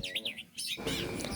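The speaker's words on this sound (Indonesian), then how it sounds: "Kacernya ini jinak, kerja ngotot dan angkur." An oriental magpie-robin (kacer) sings in quick, close, bright chirping phrases with brief pauses, its calls repeating in short bursts over a low, steady background hum.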